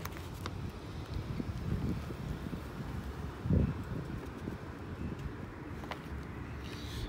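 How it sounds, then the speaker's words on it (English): Outdoor wind buffets a microphone near chestnut trees in a steady low rumble, with a brief stronger gust midway, faint and unbroken by talk. "sorry about that, kind of windy out here"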